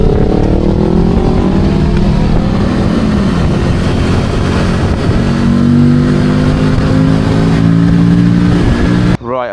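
A Mobidelli T1002VX adventure motorcycle being ridden, its engine droning steadily and loud with shifting pitch as it cruises, plus wind noise, before cutting off abruptly at the very end.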